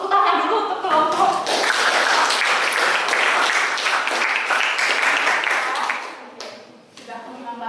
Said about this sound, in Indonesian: ibu minta tolong tepuk tangan dulu untuk kelompok